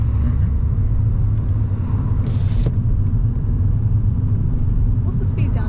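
A car driving on a road at low speed during a driving lesson, a steady low engine and road rumble throughout, heard from inside the cabin with a brief hiss of passing noise.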